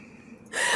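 A person sneezes right into a microphone: a brief, faint intake of breath, then a sudden, loud, close-up burst of breathy noise.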